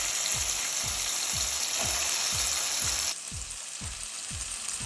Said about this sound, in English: Now what I want you to do is start sauteing it.